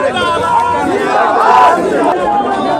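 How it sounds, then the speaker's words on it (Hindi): A large crowd at a political rally in Siwan, Bihar, keeps up a dense, steady roar of voices and cheering for the whole stretch, loud and close with no single speaker standing out. "उनके साथ बहुत लंबी भीड़ लगी हुई है"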